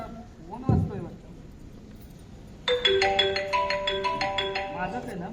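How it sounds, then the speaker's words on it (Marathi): A mobile phone ringtone goes off during a Marathi stage play, a bright melodic tune of repeated electronic notes that starts partway through and keeps playing after a brief voice near the start. "हे माझा फोन वाजतोय वाटतं"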